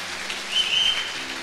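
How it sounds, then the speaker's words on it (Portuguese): An audience applauds in a church service, a dense wash of clapping hands at moderate distance, steady with a brief swell in the middle, alongside a faint whistle. "Uma salva de palmas."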